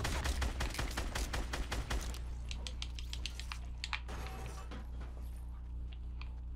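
Fortnite gunfire: a rapid, loud string of shots for about two seconds, then scattered fainter pops and clicks trailing off, with no voices.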